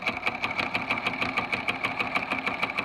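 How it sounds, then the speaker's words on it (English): Sewing machine running steadily as it stitches the second side of a zipper seam, a close, even, rapid mechanical chatter with a regular pulsing rhythm that keeps going throughout. "And then you just stitch up the other side."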